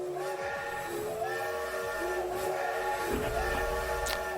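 A train whistle plays as an alert sound for a Twitch hype train, a loud sustained multi-tone steam whistle with a hissing edge and rumbling rail noise underneath. It holds for several seconds with no talk.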